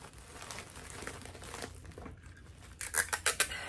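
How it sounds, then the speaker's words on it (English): Packing tape goes onto a package for shipping: close crinkling and handling noises, then a quick burst of sharp ripping tape pulls near the end, no voices. "I'm gonna get him taped up."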